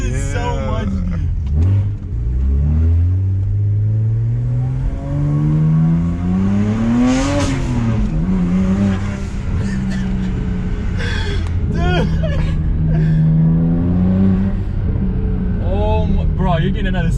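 Tuned BMW 335i engine revving hard with rising and falling pitch sweeps and turbo whooshes, close and loud, with people talking and exclaiming over it.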